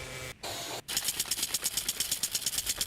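An ATV engine in the video game Last Day on Earth sputters through two brief cutouts, then settles into a rapid, pulsing putter like a small motorbike, moderately loud, with no talk over it.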